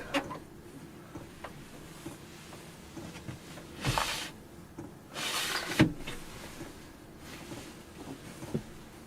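A stuck car door being forced open at a campsite: two loud broadband bursts of straining, rattling effort stand out over a low, steady outdoor rumble, with smaller knocks scattered between them.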